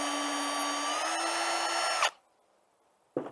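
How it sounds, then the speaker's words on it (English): A power drill whines steadily for about two seconds while pre-drilling a hole in wood for a bluebird house, then cuts off sharply, followed by a brief clunk after a short pause. "that's how you do your pre-drilling"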